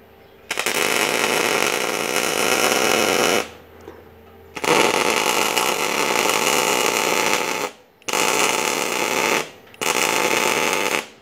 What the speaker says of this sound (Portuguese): vou começar soldando